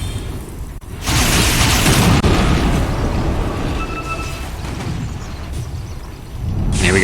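Loud, dense explosion bursts from Diabolic Edict in a Dota 2 match, a sustained crackling roar that drops briefly and surges again near the end.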